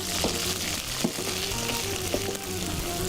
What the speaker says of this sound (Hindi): बड़ी छींटे उड़ती है कच्ची प्याज में